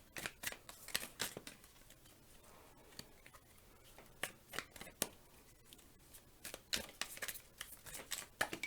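Tarot cards being shuffled by hand, giving repeated crisp riffling bursts and soft slaps in an irregular rhythm, close and fairly quiet, with no talking.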